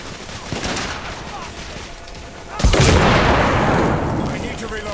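Gunfire crackles in The Order: 1886 before a grenade blast bursts out sharply, followed by a loud rolling rumble and continued shooting, with voices faintly underneath.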